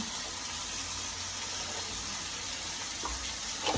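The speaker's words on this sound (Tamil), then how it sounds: "இது பொரியட்டும்." Mushrooms fry in a pan with a constant bright hiss of sizzling oil, steady and fairly close, with a faint knock near the end and no speech.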